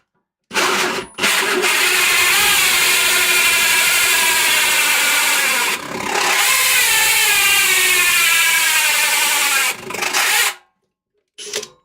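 A power drill grinds loudly and steadily through the sheet metal of a toolbox for several seconds, briefly easing off once before bearing down again, then stopping abruptly.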